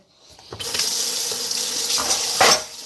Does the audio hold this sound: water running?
yes